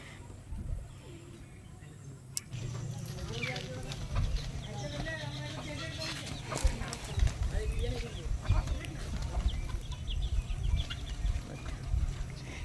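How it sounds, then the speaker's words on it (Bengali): Pigeons and chickens feed on rice together in a village yard, with soft cooing and scattered pecking and scratching close by while someone talks over them. "আর আমাদের পায়রা মুরগি সব একসঙ্গে খায়"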